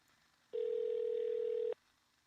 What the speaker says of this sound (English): Phoning Brian Knowles right now